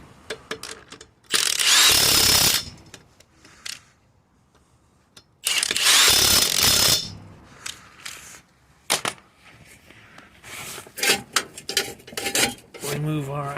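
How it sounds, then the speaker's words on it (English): An impact wrench tightens car wheel bolts by the roadside after a brake pad replacement, giving two loud rattling bursts of about two seconds each, followed by lighter clanks and metallic taps. "I just kind of tighten up the bolts"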